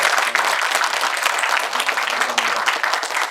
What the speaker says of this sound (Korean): 장 대표를 격려하는 박수 한번 같이 좀 해주실까요?